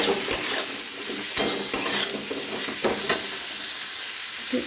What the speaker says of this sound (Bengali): তেমন পরিমাণে হলুদ, লবণ দিয়ে নাড়াচাড়া করলাম